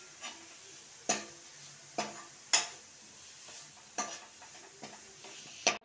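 Chopped vegetables sautéing in a pan, a quiet close sizzle punctuated by several sharp metallic clacks and scrapes of a spoon stirring against the pan.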